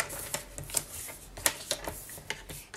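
Scissors cut patterned paper into pieces, a few crisp snips spaced about half a second apart over a soft background hiss, close and with no talk.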